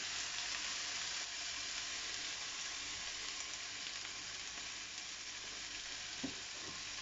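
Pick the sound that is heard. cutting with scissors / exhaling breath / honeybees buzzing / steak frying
steak frying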